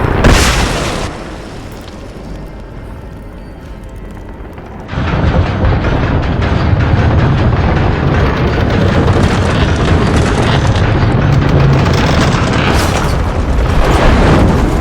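An ancient weapon fires in the Rise of the Tomb Raider video game: a loud boom, then a sustained, heavy rumbling roar that fills the rest of the clip.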